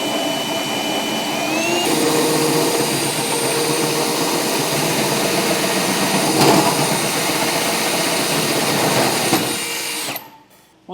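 A shop vacuum runs nearby, sucking up metal shavings left from cutting a hitch hole in a 2015 Ford F-series truck bed, a loud steady roar with rattling debris that cuts off abruptly near the end.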